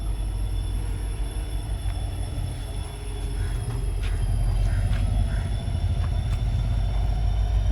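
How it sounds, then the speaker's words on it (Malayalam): A train with engine and coaches arriving at Nilambur railway station, a low rumble growing louder with faint metallic squeals from the wheels. "ട്രെയിൻ വരുന്നുണ്ട് കേട്ടോ."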